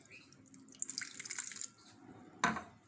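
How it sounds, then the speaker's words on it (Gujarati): Water is poured into two cups of sifted flour for champakali gathiya dough in a short splashing trickle lasting about a second, then a quiet pause and a brief knock. "તો એમાં થોડુંક પાણી લઈને આપણે લોટને"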